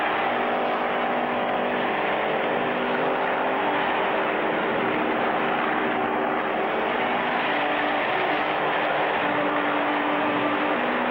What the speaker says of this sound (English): Clutch and Spinner get the race car started and are on the track.